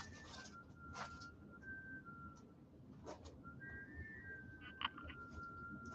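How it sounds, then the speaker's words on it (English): Someone whistles a wandering tune in short phrases, some notes held, others quick, over a steady low background hum. "that whistling is going"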